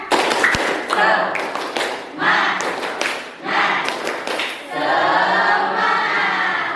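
A school class claps together in a quick patterned rhythm, sharp bursts of hand claps with brief pauses, mixed with voices, ending in a sustained burst of applause.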